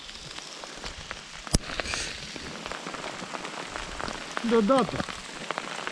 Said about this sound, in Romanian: Ploaie și grindina.